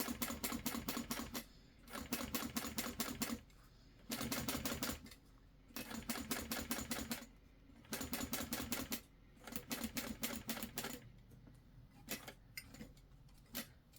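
A sewing machine stitches a clutch wallet in repeated rapid bursts of a second or two, separated by brief pauses, loud and close with no talking.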